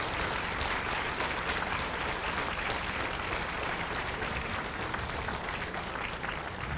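Sustained, even applause rolls from a big crowd at a temple donation ceremony during a Long Life Buddha homa led by Living Buddha Lu Sheng-yen. It is continuous and fairly loud for several seconds, with no voices on top.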